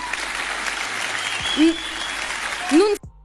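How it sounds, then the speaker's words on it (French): Crowd applause after a political speech, a steady wash of clapping with a voice speaking over it, cut off abruptly at the end. "Bien sûr, il y a des étrangers qui applaudissent."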